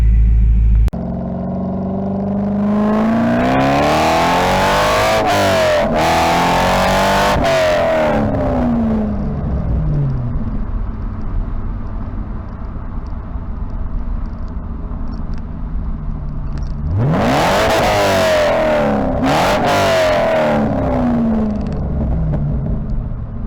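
Muscle car engine rumbling as it passes, recorded on a Wolfang GA300 action camera; two loud sweeping drive-bys with rising and falling engine roar and a steady low rumble between them.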